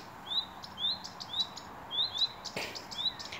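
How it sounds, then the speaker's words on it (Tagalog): Small birds in an open field give short, high, repeated chirps in quick clusters, a little distant and moderately quiet over a soft outdoor background hiss. "Ang ingay ng ibon, no?"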